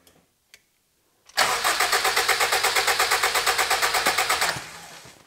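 A modified Honda Civic engine cranks with a rapid, rhythmic starter chatter for about three seconds after a couple of faint clicks, then fades out without settling into a running idle; close and loud, no talking.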